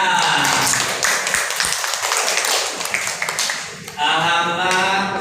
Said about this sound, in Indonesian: Kita beri apresiasi, tepuk tangannya.